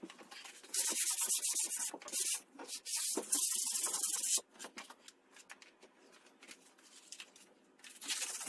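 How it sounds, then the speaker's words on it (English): Sandpaper rubbed by hand over a wall during renovation prep, scraping in long strokes with brief pauses, close and steady, no voices. "I've got to get going and do some sanding and prep work"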